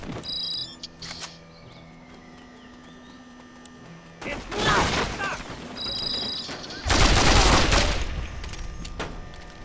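Bursts of emplaced heavy weapon gunfire in the Mercenaries 2: World in Flames video game, loud sustained volleys in two main stretches with quieter game ambience and brief voices between.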